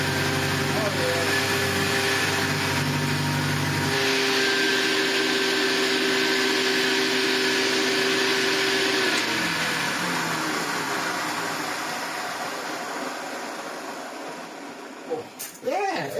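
A 74-year-old antique vacuum cleaner motor runs steadily with a loud droning whine, dropping in pitch partway through and tapering off near the end, with a few brief knocks.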